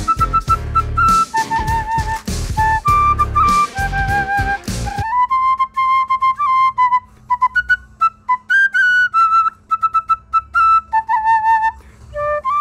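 Raw, unmixed bamboo flute (sáo trúc) recording of a Tokyo Revengers anime song: a solo breathy flute melody of sustained and ornamented notes, close and clear, with a steady low hum underneath in the second half.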